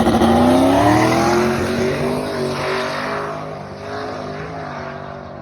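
A drag racing car with a 118mm turbo makes a test pass on a poor surface, a loud, close engine roar that rises in pitch and then fades slightly as it pulls away.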